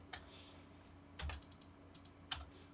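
A few quiet key taps on a computer keyboard enter a number, then a firmer press of the enter key, all heard close up in a quiet room.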